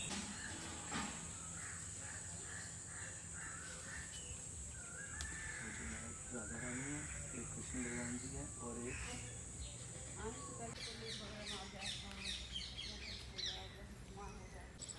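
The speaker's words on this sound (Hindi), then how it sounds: "आप पक्षियों की मीठी मीठी आवाज़ भी सुन सकते हैं" Birds calling, crows among them, in Vrindavan: caws and chirps scattered through a steady background hum, with people talking nearby.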